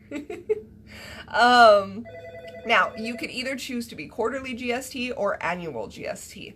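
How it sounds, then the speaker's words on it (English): A phone rings in the background while a person speaks over it, and the ringtone stays fainter than the voice. "Sorry about my phone in the background."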